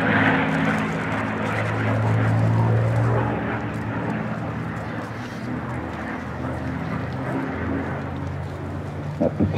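P-51D Mustang propeller aircraft taxiing at the Flying Legends 2018 air show, a steady droning piston-engine rumble with low harmonic tones, moderately near and continuous throughout, with a faint voice underneath.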